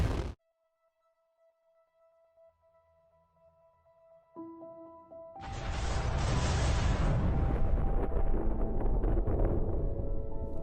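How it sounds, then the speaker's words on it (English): A bomb blast in an animated story: after a quiet stretch of faint tones, a deep, loud roaring explosion erupts and rumbles on to the end. "The bomb struck the Xandrominians, instantly killing them and their entire empire."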